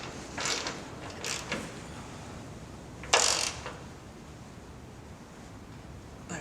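Tightening a bolt on a Dee Zee tailgate assist shock for a 2015+ Ford F-150, a few brief ratcheting clicks and one sharper metallic burst, close by, no talking.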